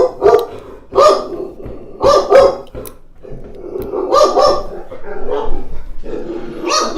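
Several dogs bark in loud, close bursts, with repeated sharp barks coming in clusters and short pauses between them.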